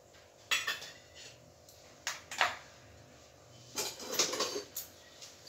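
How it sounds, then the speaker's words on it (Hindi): Chicken is mixed with Kashmiri chili powder, turmeric and ginger-garlic paste in a dish, with soft intermittent clinks and scrapes of a utensil against the vessel in quiet surroundings. "इसको अच्छे से मिक्स कर देना है।"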